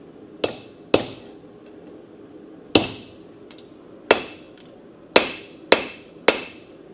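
A blacksmith forges a knife from hot steel, hammer blows ringing out sharp and metallic with a short decay, seven strikes in an uneven rhythm with pauses between some of them, close by and with no talk.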